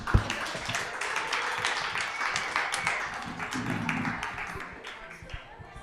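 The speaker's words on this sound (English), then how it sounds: "one more big round for Matt, you guys" Audience applause at a live Hmonglish podcast event, a dense steady patter of clapping that holds throughout and fades slightly toward the end, with no talking over it.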